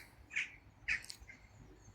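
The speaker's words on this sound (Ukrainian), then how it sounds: "От пташечки зі мною згодні" Birds call outdoors in a few short, separate chirps and squawks, moderately close, with quiet gaps between calls and no talking.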